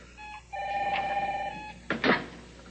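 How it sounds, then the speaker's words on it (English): A telephone bell rings close by in two short bursts in a quiet room, followed by a brief clatter. "Your phone rang."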